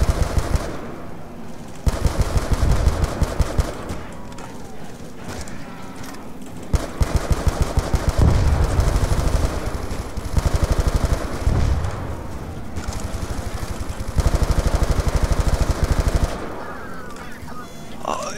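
Bursts of rapid automatic gunfire from Black Ops 2 Zombies on the Town map come in repeated loud, close volleys of several seconds each, with short gaps between them.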